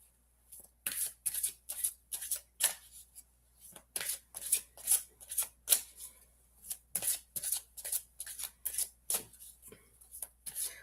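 Tarot cards being shuffled in quick, repeated riffles, a rhythmic run of crisp papery bursts close by, with brief pauses between rounds.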